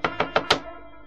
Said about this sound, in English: Then there was a knock on the door.